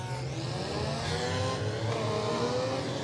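Front-wheel-drive race cars in a feature race at Wartburg Speedway, engines droning and revving steadily at full throttle, loud and continuous throughout with no pauses.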